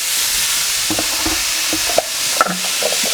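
Ingredients tossed into a pan of hot oil for a spicy basil chicken pasta sauce with pureed onion, garlic and chili, giving a steady hiss with a few soft stirring clinks and scrapes; no talking.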